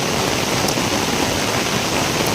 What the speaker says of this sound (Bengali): দেখুন কীরকম মজাদার বৃষ্টি